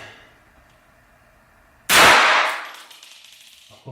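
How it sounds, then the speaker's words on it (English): A single sharp, very loud shot from a Walther P22 .22 pistol fired inside a living room, followed by a short ringing decay in the room, after near-silence. "The first time I've ever fired a gun"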